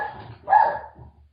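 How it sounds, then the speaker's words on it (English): A single dog bark, close and fairly loud, a short sharp yelp preceded and followed by quieter room noise. "Damn dog."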